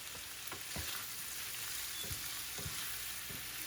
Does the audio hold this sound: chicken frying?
yes